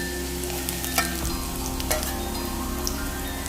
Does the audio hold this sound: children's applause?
no